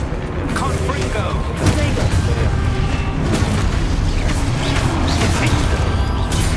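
Confringo blasting spells in a Harry Potter video game: repeated booming blasts and crashing impacts over a constant loud magical-combat din, with shouted spell voices throughout.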